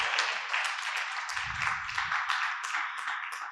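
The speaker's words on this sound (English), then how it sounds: "I think that deserves a round of applause." An audience at an art museum lecture claps in a brief round of applause, a quiet, crackling patter of many hands that stays even until it fades slightly.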